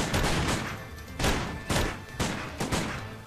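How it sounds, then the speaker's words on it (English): Gunfire in the Sam & Max game: a rapid series of heavy booming shots in uneven bursts, loud and close, with rumbling decay between blasts. "Open fire."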